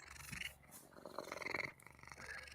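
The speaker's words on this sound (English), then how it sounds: "I can hear the cat purring." A cat purrs softly nearby in a quiet room, a faint, low rhythmic rumble rising and falling with its breathing.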